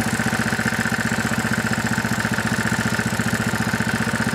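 Briggs & Stratton Q6500 QuietPower inverter generator engine idling steadily nearby, a continuous low pulsing drone with a fast even rhythm and no talk over it.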